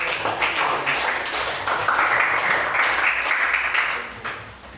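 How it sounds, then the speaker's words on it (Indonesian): Dense, steady clapping from a class after a group presentation, a continuous patter of many hands that holds for several seconds before easing off slightly at the end. "kita kasih aplaus kelompok"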